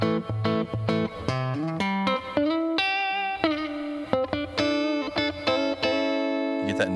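An electric guitar played clean through a NU-X Solid Studio preamp's Deluxe Reverb amp simulation rings out in plucked notes and chords, with sustained tones and a spacious reverb tail, close and clear.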